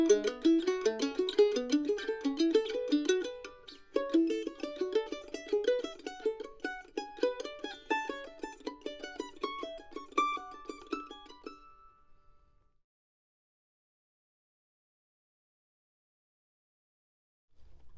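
A mandolin plays a quick, driving run of a double-stop pattern with dense, bright plucked notes. It ends on a ringing note that fades into several seconds of silence.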